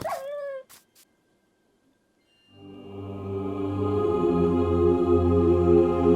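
A dog whimpers in the Minecraft video game, giving one short whine and a couple of tiny clicks. A silent gap follows, then a sustained tonal music bed swells in and grows steadily louder.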